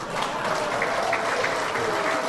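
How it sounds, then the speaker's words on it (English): Audience applause from a live comedy show audience, a steady dense wash of clapping lasting the whole moment without a break. "I paused enough for applause"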